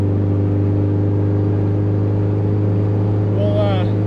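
A boosted car drives with a steady, loud low engine drone heard from inside the cabin, with a brief rising whine near the end.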